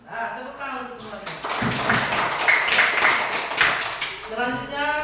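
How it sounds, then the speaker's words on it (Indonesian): A classroom group claps together for everyone during a lesson on artificial intelligence, giving a dense burst of applause lasting a few seconds, with voices around it. "tepuk tangan untuk semuanya"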